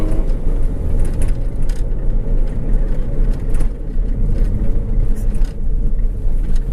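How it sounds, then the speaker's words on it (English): A Honda CRX with a gnarly exhaust leak being driven, giving a loud, steady low engine drone and rumble that runs without a break throughout, close-up from inside the car with no talking. "This thing's got a pretty gnarly exhaust leak too."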